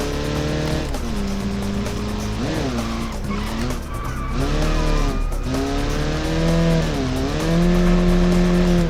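A Soviet-style touge race car in BeamNG slides through a bend, its loud engine droning and shifting pitch while tires squeal continuously and wavering under the skid, close and alone without talk.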